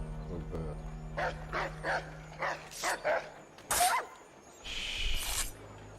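A dog in Assassin's Creed 3 barks in a quick series of loud yaps and whimpers, close up, with a few sharp bursts spaced across a few seconds.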